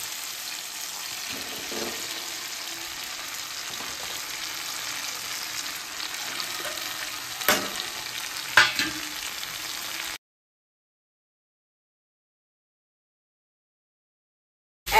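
Steady sizzling of vegetables frying with garlic in a pan, with occasional stirring clatters, runs for about ten seconds before falling silent.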